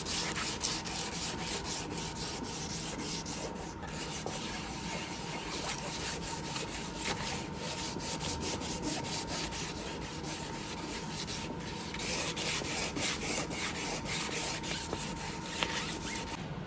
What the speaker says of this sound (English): I'm going to wet sand those and get them ready for paint tomorrow